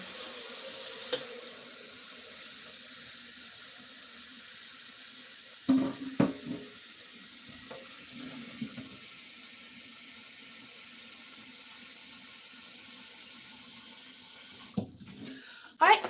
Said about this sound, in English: Before I do that, I gotta get some hot water going.